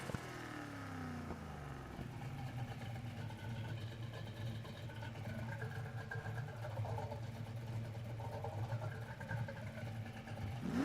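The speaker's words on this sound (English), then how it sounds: "I think that's a good idling noise." A car engine idles steadily for about eleven seconds with a low, even rumble, a brief rev change near the start, and no talk over it.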